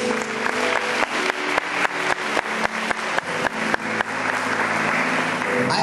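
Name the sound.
congregation applauding in church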